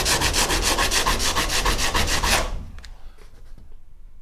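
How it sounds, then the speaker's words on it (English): A sanding block rubs rapidly back and forth on an interior wall in quick, regular strokes, loud and close, then stops, leaving faint handling noises. "take just a little quick sanding block and just go over it a few times"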